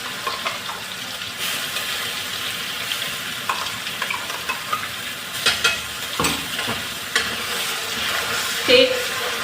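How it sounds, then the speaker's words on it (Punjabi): Onion puree going into a hot frying pan and being stirred, a steady sizzle and frying hiss with scraping stir noises and a few clinks, close and moderately loud with no talk over it. "ਹੁਣ ਆਪਾਂ ਵਿੱਚ ਪਾਵਾਂਗੇ ਜੀ ਇਹਦੇ ਪਿਓਰੀ ਜਿਹੜੀ ਆਪਾਂ ਨੇ ਬਣਾਈ ਪਿਆਜ਼ਾਂ ਦੀ"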